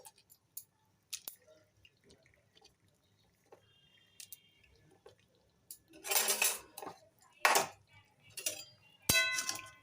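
Shukto vegetable curry with boris stirred in a cooking pan over low flame, scattered metallic scrapes and clinks building to several louder bursts of clanging toward the end, close by.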